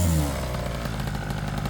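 A Taylor RC 80cc petrol engine fitted in a Raminator RC monster truck revs loud and close, a raspy, buzzing two-stroke drone held high throughout.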